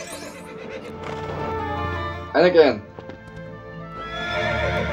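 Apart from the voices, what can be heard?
horse neighing and hooves in LEGO Indiana Jones video game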